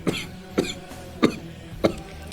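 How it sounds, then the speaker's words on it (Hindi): A woman coughs four times in a steady rhythm, close and fairly loud, during a political satire podcast. "लगता है खांसी भी दे गए हैं गुरुजी आपको अपने।"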